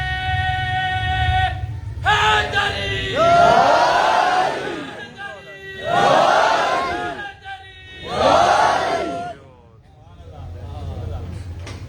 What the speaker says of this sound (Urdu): خوبصورت نعرے لگائے آپ نے